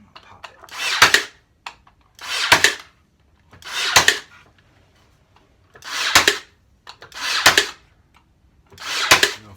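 A nail gun fires nails into a wooden bar stool, six loud sharp pneumatic bursts spaced about a second and a half apart, each preceded by faint handling noise.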